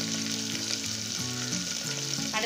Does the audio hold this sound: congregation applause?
no